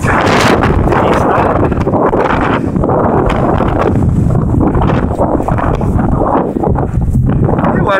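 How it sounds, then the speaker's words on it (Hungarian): Strong wind blasts across the microphone while cycling in cold, wet weather, a loud, constant rushing roar with rustling bursts that swamps everything else. "Jó erős itt a szél."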